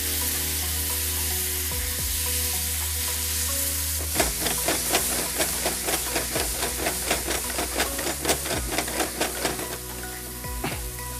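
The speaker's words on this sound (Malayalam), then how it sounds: "ലേശം സ്റ്റോക്ക് ഒഴിച്ചു കൊടുക്കുകയാണ്." Masala sizzles and crackles loudly in a pan after a little chicken liver stock is poured in, with a steady hiss and a run of rapid, rhythmic popping bursts through the middle.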